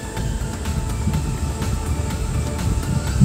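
A Geely Okavango Urban's engine idles right after starting, a low steady rumble with a faint hum and light ticking, heard close with no talk.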